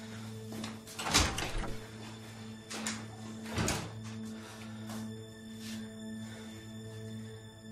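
A door opening with a couple of clattering thumps and rattles, fairly close, over a steady electrical hum in an indoor home setting, with no talking.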